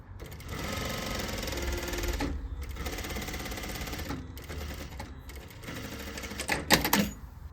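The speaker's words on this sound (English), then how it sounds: "Now we're going to sew the pocket down at a 1/2 inch." A sewing machine stitches a pocket down on a circle skirt with an elastic waistband, running in steady continuous bursts with brief pauses between seams and a short back-tack near the end, close and fairly loud.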